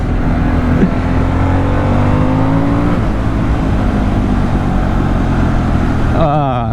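A 2024 Harley-Davidson Sportster S rumbles along while being ridden, its engine droning loud and close with steady rising tones, wind noise over it and a gear shift near the end; a rider talks intermittently over it.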